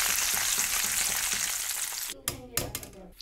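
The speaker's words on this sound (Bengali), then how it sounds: "শেষে কটা কারি পাতা আমি হালকা আঁচে ভেজে নিলাম" Curry leaves fry in oil over low heat with a dense, even sizzle. The frying drops away into a few sharp clinks and scrapes of a utensil against the pan. It is close and short, with no talking.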